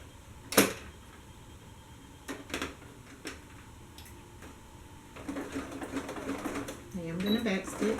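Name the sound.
sewing machine making a first stitch on paperbag pants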